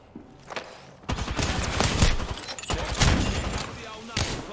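Rapid bursts of gunfire from an online shooter video game, loud and dense over several seconds with short gaps, heavy impacts mixed in and a voice talking over the shooting.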